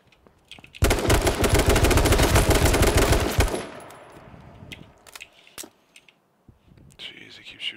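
Gunfire in the video game H1Z1, a loud, dense burst of rapid automatic shots lasting about three seconds, then fading to scattered clicks, metallic clangs and faint background sounds.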